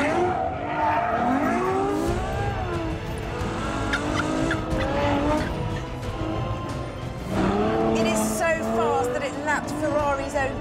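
Ferrari F12 Berlinetta accelerating hard on a test track, a loud engine rising and falling through the gears with a squeal of tyres, under a driver's excited talk throughout.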